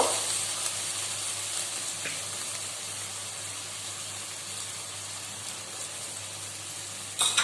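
Mutton and softened onions fry in a pan with a soft, even sizzle that holds steady throughout, ending in a brief louder clatter.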